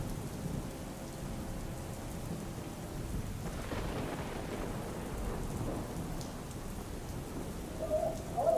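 Heavy rain pours down in Palanpur, a dense steady roar of downpour on surfaces with a low rumbling undertone, continuous and without any voices.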